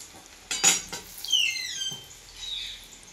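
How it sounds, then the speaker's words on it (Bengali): Fried chicken bora being strained out of a pan with a metal slotted spoon, soft metallic scrapes and clinks with light sizzling, close and fairly quiet. "এইভাবে বড়াগুলো আমি ছাঁকব।"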